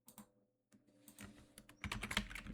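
Typing on a computer keyboard while creating a text file and entering git commands, heard as close, quick clicking keystrokes that start sparse, pause briefly, then speed into a denser, louder run, with no talking.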